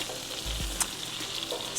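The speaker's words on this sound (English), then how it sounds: "So here's the butter. Oh yeah, that is a nice sizzle." Butter sizzles steadily in a hot pan, a soft continuous hiss with a small spatter or two, alone without speech.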